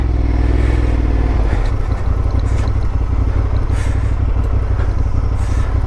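Honda Transalp motorcycle ridden on an Idaho dirt trail among rocks: a close, loud engine drone with throttle surges, plus clattering from the bike over rough ground.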